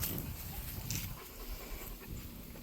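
Great Pyrenees dog panting close by, a steady rhythmic huffing breath that continues throughout with no one speaking.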